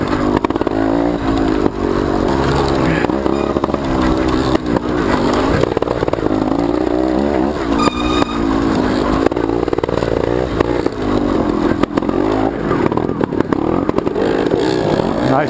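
An enduro motorcycle engine revs hard and steadily, loud and close, with the pitch rising and falling as the rider works the throttle during an enduro race.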